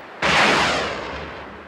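A single loud, close naval gun blast from an Egyptian navy ship firing at the Gaza coast, with a sharp broadband onset and a long rumbling decay, heard alone.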